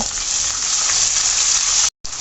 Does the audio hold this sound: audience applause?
no